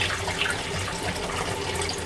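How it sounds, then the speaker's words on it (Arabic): Water running and splashing as cooked white beans are drained, a continuous close pouring and trickling sound with no voices. "نصفيها من داك الماء"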